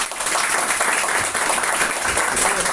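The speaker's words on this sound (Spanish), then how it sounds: "Denle un fuerte aplauso al Señor." A church congregation applauds loudly during a Spanish-language worship service, dense steady clapping filling the whole moment with no pauses and no voices rising above it.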